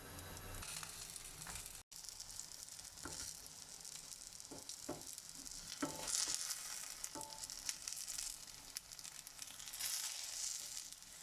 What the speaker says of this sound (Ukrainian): Наливаємо на сковорідку рослинну олію і чекаємо, щоб нагрілася для смаження